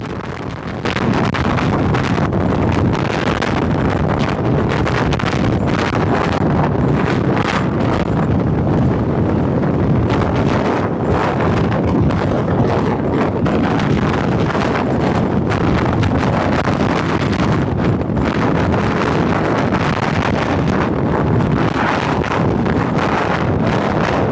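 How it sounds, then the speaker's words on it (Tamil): Loud, constant wind roars and buffets the microphone on a moving train crossing the Pamban sea bridge, a dense rushing noise with no pauses and no talking. "அந்த அளவுக்கு காற்று ஃபோர்ஸாக இருக்குது"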